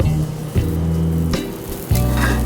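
Scallops sear in a hot pan with a steady close hiss and sizzle, broken by a few brief clinks and shifts of the pan, with no talking.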